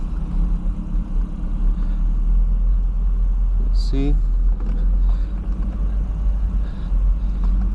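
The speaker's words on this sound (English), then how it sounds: "Setting off in the MR2 is not particularly quick." A 2001 Toyota MR2 Spyder pulling away, its engine a steady low drone heard from the cabin. A voice speaks briefly over it.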